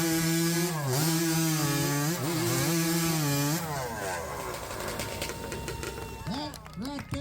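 Chainsaws ripping through timber at a 2023 Jackson, Alabama chainsaw race, loud high revving engines biting into wood and then dropping, with a voice and crowd noise over the roar.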